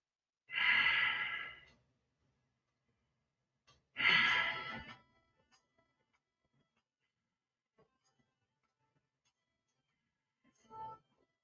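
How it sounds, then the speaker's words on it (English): Slow, deep breaths in and out during a morning exercise routine: two long, loud breath sounds about three seconds apart, then a fainter, shorter breath near the end, with quiet gaps between and no speech. "Take deep breath as they go up and as they go down, breathe out."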